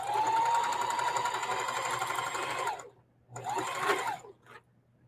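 A sewing machine stitches a scrappy quilted casserole pad in the ditch, a steady loud close whir that runs for a few seconds, halts briefly, then starts again for a short burst.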